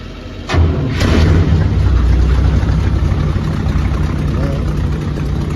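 An old car that has sat unused turns over on a freshly charged battery, catches with a low thump, then settles into a steady rough idle close by with no voices over it.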